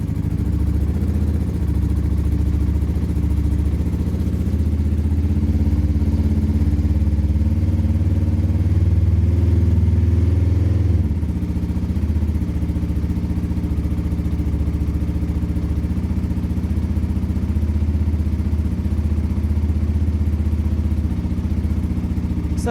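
A 2003 Kawasaki ER5 motorcycle engine runs on choke in neutral, a loud close steady idle whose pitch rises briefly around the middle before settling back to an even drone.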